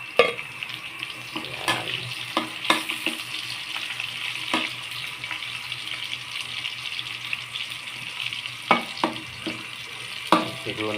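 Pancit being stir-fried in a pan with labuyo chili: a constant close sizzle broken by sharp clacks of the utensil against the pan, with a brief word spoken.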